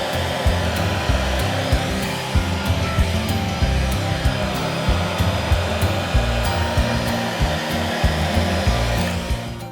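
A hair dryer fitted with a styling concentrator nozzle blows a steady, loud, close airflow roar that holds evenly throughout, with no voices.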